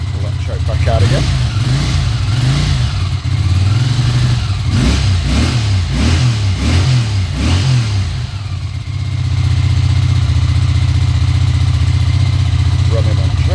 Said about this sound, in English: Running on choke, so see if I push the choke in, we'll have a go, see if it'll keep running.